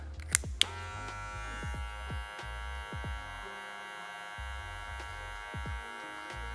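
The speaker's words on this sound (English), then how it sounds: "It looks like I have the whole clipper laid down here, but actually I just have this right corner laid down" An electric hair clipper fitted with a 1.5 guard cuts hair during a low taper haircut. It gives a steady, close buzzing hum throughout, with a couple of sharp clicks near the start and music in the background.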